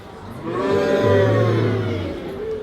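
Children in a live reading audience imitate a cow's moo together, a single drawn-out lowing call that swells and then fades over about two seconds.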